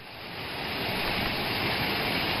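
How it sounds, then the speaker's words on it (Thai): Flash-flood water pours down Phrom Lok waterfall in Phrom Khiri, Nakhon Si Thammarat, a steady, dense roar of rushing water that swells slightly and then holds loud and unbroken. "น้ำป่าหลากเชี่ยวกรากลงมาข้างล่างตลอดเวลานะคะ"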